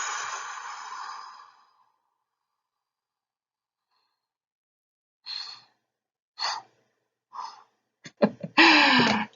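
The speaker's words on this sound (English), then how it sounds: "Trying to exhale as much as I can past, but just as much as you can." A person forces a long maximal exhalation, a steady breathy rush of air lasting nearly two seconds. After a pause come several shorter, sharper breaths and gasps.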